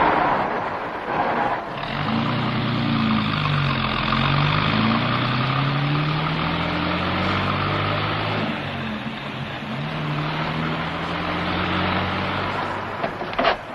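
A car engine reversing slowly around a large tree, with a steady low drone whose pitch rises and falls as the driver works the throttle. It is close and continuous, with a few small knocks near the end.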